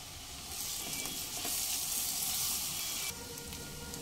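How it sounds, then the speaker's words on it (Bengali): Chopped onion, green chillies and ginger-garlic paste sizzle in a pan over medium flame, a close, steady hiss that swells louder for a few seconds as the paste goes in and then settles back. "মিডিয়াম ফ্লেমে 2 মিনিট মতো ভেজে নেব"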